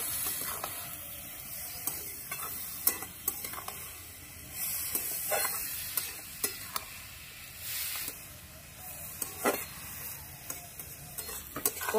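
Ash gourd curry with green chilli, turmeric and salt is stirred in a pan, steady sizzling beneath repeated sharp clicks and scrapes of the spoon against the pan.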